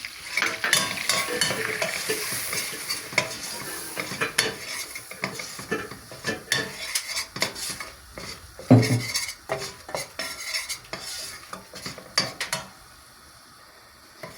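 Flour roasting in a soup pot for kiramalı vegetable soup, stirred steadily with scraping utensil strokes against the metal over a continuous close frying hiss, with one sharper clank partway through.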